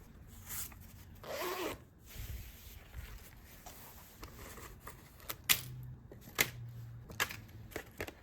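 A fabric zipper handled for paper crafting, zipped and unzipped in several short rasping runs close up, with light clicks and rustles between the pulls.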